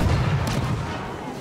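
A rocket launcher fires in Star Wars Battlefront 2, a loud, deep, rumbling boom that hits at once and slowly fades over about a second.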